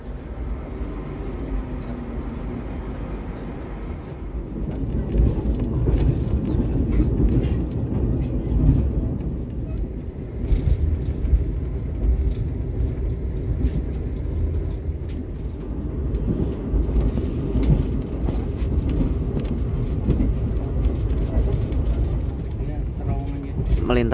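Malabar passenger train rolling on rails after departing a station in Indonesia, heard from inside as a steady, loud low rumble of wheels and carriage throughout, with faint voices mixed in.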